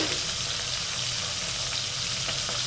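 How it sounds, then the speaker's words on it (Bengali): Hilsa fish heads frying in hot oil, turned to brown on both sides, give a constant, dense sizzling hiss that holds evenly throughout at moderate loudness without any talking. "মামনি এবার মাছের মাথাগুলো লাল লাল করে এপাশ ওপাশ করে ভেজে নিচ্ছে।"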